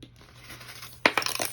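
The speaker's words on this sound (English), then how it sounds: "oops, okay, dies are coming flying" Metal cutting dies from a slimline die set fall onto a craft table, a sudden close clatter of several light metallic hits that quickly settles.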